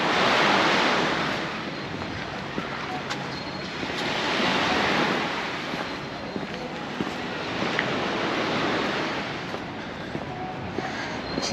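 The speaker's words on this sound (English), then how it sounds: "This is the San Matias beach." Waves surge and wash onto San Matias beach at Palmanova, Mallorca, a broad steady roar of surf that swells and eases with wind buffeting the microphone.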